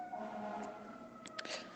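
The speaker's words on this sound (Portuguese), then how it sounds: "Não sei se vocês estão ouvindo aí no fundo uma sirene" A siren wails faintly in the distance outdoors, a thin steady tone behind a quiet room with a few brief higher noises near the end.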